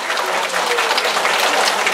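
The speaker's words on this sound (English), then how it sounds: "If you love to go to the beach, clap your hands nice and loud." Children at a library magic show clap their hands loudly together, making a thick, steady roar of rapid overlapping claps with no pauses from start to finish.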